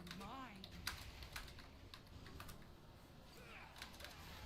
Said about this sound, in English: Oh god, I'm typing in guild.